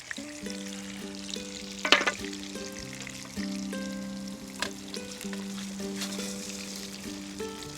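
Salmon cooking in an air fryer with a black garlic chili oil sauce, a quiet steady sizzle with soft crackles and a faint humming tone, close and with no talking.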